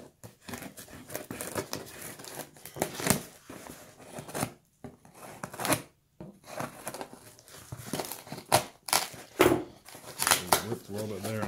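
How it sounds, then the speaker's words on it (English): Tape on a cardboard box is cut and ripped open in a series of short, uneven scraping and tearing bursts separated by pauses, close and fairly clear. "I'm going to carefully cut this tape"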